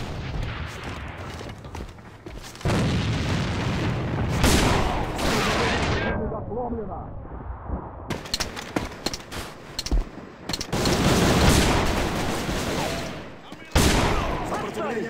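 Grenade blast and bursts of gunfire in a combat video game, loud sustained volleys and booms with a shouted voice in between, fire resuming after a brief lull.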